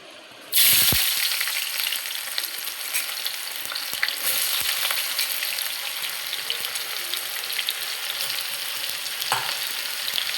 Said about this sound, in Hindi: इसमें मैं ऐड करूँगी प्याज, और अच्छा खासा ऑयल गरम हो गया है।